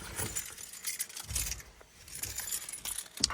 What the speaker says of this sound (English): Let me start up this bad boy for a second.